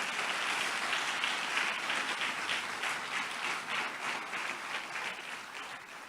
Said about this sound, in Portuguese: Pode aplaudir o Senhor por isso?